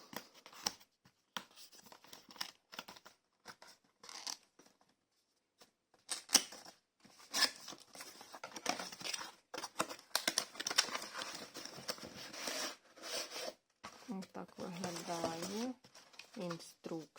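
Packaging for a Philips MG3740/15 series 3000 9-in-1 trimmer is torn open with sharp, irregular crinkling and ripping bursts, close and fairly loud. A voice talks over the last few seconds.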